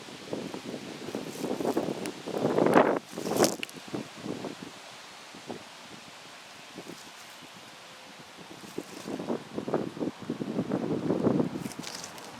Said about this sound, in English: So it's a bit windy out